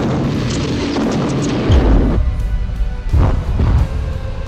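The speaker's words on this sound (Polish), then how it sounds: "Strzeliwanie w środek kolumny. Wystrzał." Artillery battery guns firing at an enemy column in a 1939 Częstochowa battle recreation, heavy booms landing near 1.7 and 3.2 seconds over a continuous rumbling battlefield din.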